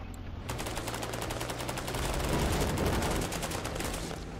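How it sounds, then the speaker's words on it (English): Sustained gunfire and explosive mortar fire in the combat game Cepheus Protocol, a dense rapid burst of shots that sets in after a quiet half-second and keeps going loud and steady throughout, with a low rumble beneath. "mortars are firing"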